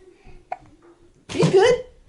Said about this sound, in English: she just burped